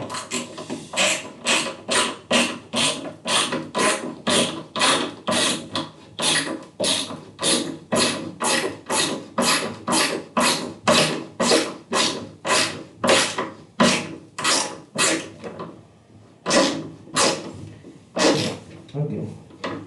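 A screw is driven during a desk setup upgrade assembly, heard as a long run of repeated ratcheting, grinding turns in a steady rhythm, close and loud, with no talk.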